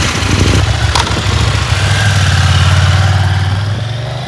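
A KTM Duke 890 GP motorcycle engine idles steadily with a deep, even rumble, loud and close, with a brief faint click near the start.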